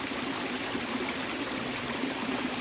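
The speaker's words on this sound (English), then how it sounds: "It's got little waterfalls coming over the roots" Small waterfalls spill over tree roots in a stream, making a continuous, even rush of splashing water close by with no voices.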